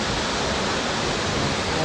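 Balagbag Falls, a shallow three-tiered waterfall beside a river, roars in a dense, constant rush of water heard up close and loud.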